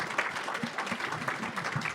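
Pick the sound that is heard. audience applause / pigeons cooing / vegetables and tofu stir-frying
audience applause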